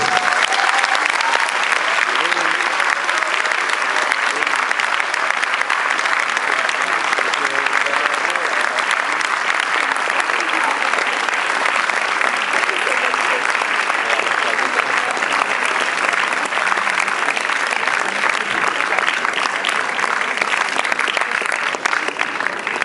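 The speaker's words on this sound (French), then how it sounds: "vous allez pouvoir la applaudir" Sustained applause from a large audience at a film premiere in Paris, dense and loud clapping that continues evenly for the whole stretch, with the crowd's faint murmur blended underneath.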